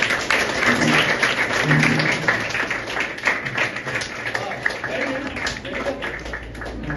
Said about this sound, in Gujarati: તાળી પાડજો ભાઈ મિશન માટે